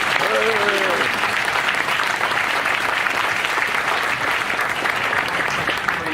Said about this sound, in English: Please give yourselves a loud round of applause.